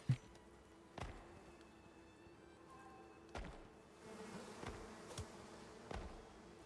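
Bees buzzing in Farming Simulator (Icarus), a faint thin drone with occasional soft taps and thumps mixed in, quiet and steady in the background.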